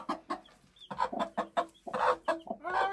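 Chicken calls sound in a rapid series of short clucking, chirping notes, close and fairly loud, with brief pauses between bursts and no talk.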